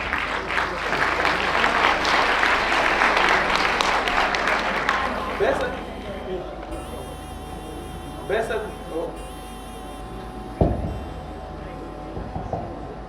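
An audience at a Nazaretha (Shembe) birthday celebration gathering in Durban claps in a dense, loud burst that gradually thins out after about five seconds, leaving a few scattered sounds and a lingering hum.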